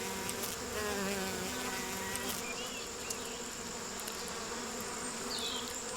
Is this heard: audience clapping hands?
no